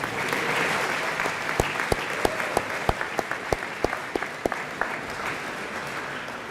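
Audience applause fills a hall at a student athletic awards banquet, a steady wash of many hands clapping with a few louder, sharper claps standing out near the front.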